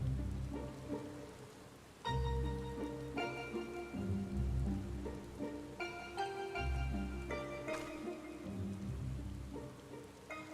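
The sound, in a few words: rain in Final Fantasy XIV video game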